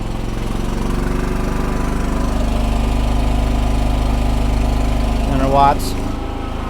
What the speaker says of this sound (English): I turned the ESC throttle on and it idles down pretty good.